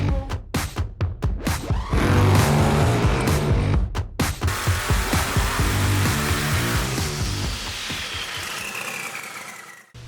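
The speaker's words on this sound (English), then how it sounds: "the engine idling, open the valve, the turbo moves more air idling than what the engine is taking" A turbocharged engine idles with its boost valve open, starting with rapid choppy pulses before a loud, steady rushing roar of air that slowly fades near the end.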